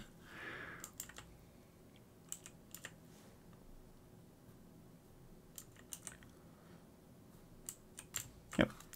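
Mouse clicks sound while someone pages through the menus of a naval strategy computer game: sparse, crisp, quiet clicks scattered irregularly over a near-silent background, with a slightly louder double click near the end.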